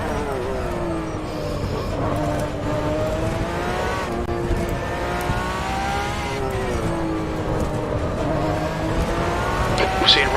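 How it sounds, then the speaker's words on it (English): A race car in the rFactor 2 sim racing game howls at sustained high revs with rising and falling engine pitch and tyre squeal as the left front locks under braking into turn 1, loud and continuous throughout. "You're locking your left front, braking for turn 1."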